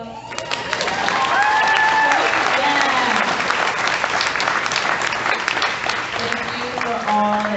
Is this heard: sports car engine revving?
no